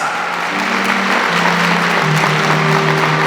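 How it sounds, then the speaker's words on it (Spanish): Wedding guests clap together in a steady, loud wash of applause that lasts throughout, with a faint sustained tone running beneath it. "Los aplausos para el cielo, señores. A ver, vengan las palmas."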